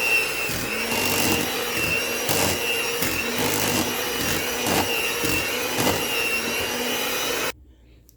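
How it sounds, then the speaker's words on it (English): A blender whirs steadily, blending fruit for a rummy Jamaican fruit cake, loud and close, with a faintly pulsing churn that runs for several seconds before cutting off abruptly. "Okay, let's blend that in."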